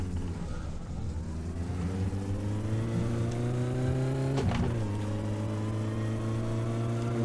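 A car in the driving game My Summer Car, its rear tyre damaged after a minor crash, drones steadily with engine tone rising, dipping briefly mid-way then climbing again, loud and continuous with no talk.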